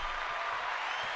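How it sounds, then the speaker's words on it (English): Crowd applause, a dense steady wash of clapping filling the whole short moment at a fairly distant level, with no clear voices over it. "The crowd's already going crazy."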